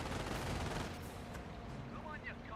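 MG42 machine gun fire in a Company of Heroes battle: a dense, rattling spray of rapid shots fills the short stretch, steady and fairly loud, tapering slightly toward the end with faint battlefield noise beneath.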